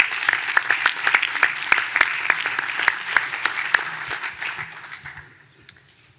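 An audience at a New York State tourism and craft beverage summit claps loudly and steadily, then the applause thins out and fades over the last second or so.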